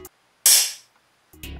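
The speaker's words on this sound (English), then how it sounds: "We also have this open hat" A loud open hi-hat sample rings out once as a bright, sizzling splash that decays over about half a second, framed by short clicks and a low thump, with no talk.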